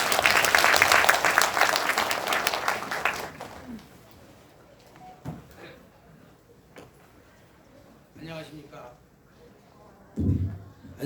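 An audience claps at a university entrance ceremony. The dense applause is loud at first, then fades after about three seconds, giving way to a few scattered claps and room noise.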